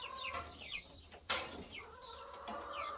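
Chickens and chicks cluck in a coop on a Kazakh farm, soft, scattered clucks and chirps at moderate distance over a quiet background.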